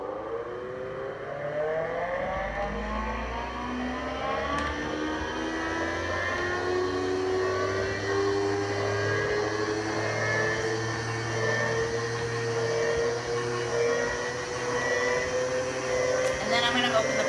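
A hand-cranked cream separator spins up at about one turn per second, giving a steady mechanical whir with rising, gliding tones throughout, close and continuous with no talk.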